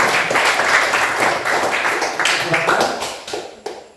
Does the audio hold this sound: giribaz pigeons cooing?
no